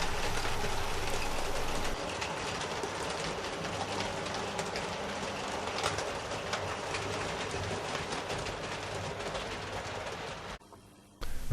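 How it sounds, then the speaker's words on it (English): A model steam train hauled by a Gladstone-class locomotive pulls away from a station with a steady rumble and rail clatter. The sound stays continuous and fairly close, then cuts off near the end. "The London train departs behind the Gladstone-class loco."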